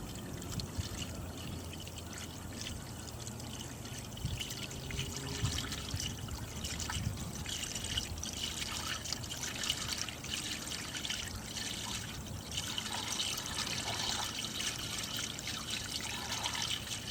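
Steady running water flushing through the undercarriage of a vehicle, a continuous splashing trickle and pour that holds evenly close by for the whole stretch.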